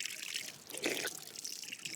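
A faint, soft trickle of water runs from a wind-turbine-powered pump drawing from the water table during an Australian drought, quiet and steady with a slight splash partway through.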